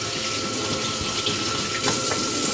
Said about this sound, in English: I'm just going to pour some Grand Marnier to get it ready for our flambé